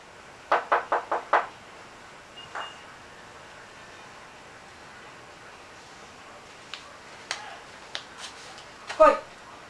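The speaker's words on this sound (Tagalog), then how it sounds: "May kumakatok!" Knocking on a door in a Filipino short film: a quick run of five sharp raps, then a lone knock, later scattered knocks and a louder final cluster, with quiet room tone in between.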